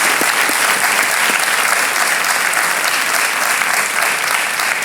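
A studio audience on the Hindi quiz show Kaun Banega Crorepati claps in a dense, loud, steady roar of applause that lasts throughout without letup.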